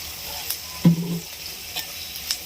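Amaranth leaves and turmeric fry gently in a pan, a quiet steady sizzle with a soft scrape of stirring and a couple of light knocks.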